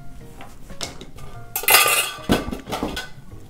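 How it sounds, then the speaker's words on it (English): Ice cubes drop and clink against a chilled glass while a whiskey sour is made, a flurry of bright, close clatters and rattles with a few louder knocks, no talking. "Oops, dropping ice."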